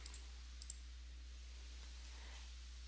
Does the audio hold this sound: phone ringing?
no